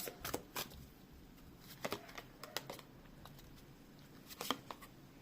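Tarot cards riffle and snap in a few quick bursts, close and fairly quiet, with light tapping between them and no voices.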